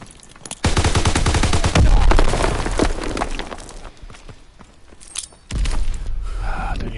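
Submachine gun fire in Call of Duty WWII on PS4: a long, loud, rapid burst of close shots, then quieter game noise, then a second sustained burst near the end.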